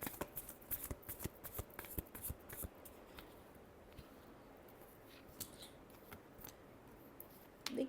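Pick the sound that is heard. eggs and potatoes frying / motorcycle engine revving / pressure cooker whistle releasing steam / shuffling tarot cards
shuffling tarot cards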